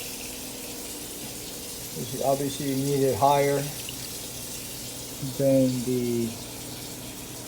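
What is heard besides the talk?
tap water running into a still's condenser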